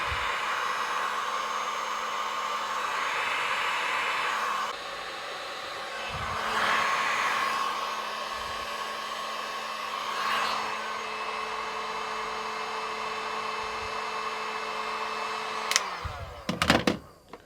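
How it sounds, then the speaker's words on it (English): Heat gun blowing a continuous, droning whoosh of hot air onto the reservoir of a 2024/25 WP PDS rear shock, rising and dipping as it moves, before clicking off into a few clunks at the end. "So I'm going to heat up this area of the reservoir, the original reservoir, and then use a special tool to remove it. Just use a heat gun."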